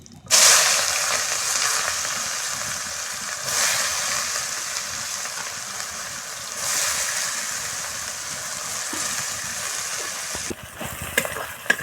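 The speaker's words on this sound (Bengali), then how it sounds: "পেঁয়াজ ভাজা হয়ে গেছে দেখেন লাল লাল করে।" Chopped onions fry in hot oil in a pan for a Bengali country chicken curry, giving a steady, close sizzling hiss that swells and eases slightly throughout, with no talking over it.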